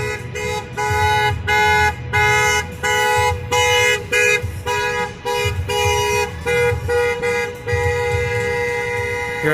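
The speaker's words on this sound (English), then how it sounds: "If this guy would stop honking." A car horn honks again and again in downtown Lansing near the Michigan Capitol, loud and close, in long, repeated blasts with short gaps between them.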